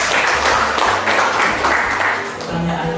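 An audience claps after a nursing lecture, a dense continuous wash of applause lasting throughout, with a low background hum under it.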